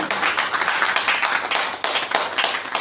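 An audience at an AIM India business seminar claps loudly for a speaker, a dense, continuous burst of close applause throughout with no pauses.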